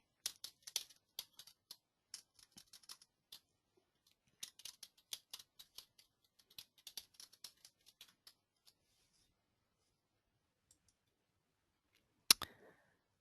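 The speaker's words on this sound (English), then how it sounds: "I'll type in another question." Light, sparse clicking of keys on a computer keyboard, irregular taps in short clusters, faint and close in a quiet room, ending with one sharper knock.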